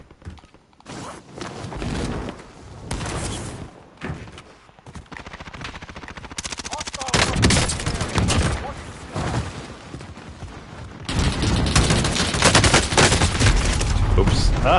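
Gunfire from a weapon in a video game, loud rapid bursts and strings of shots that come and go in repeated volleys, with a person talking between and over them.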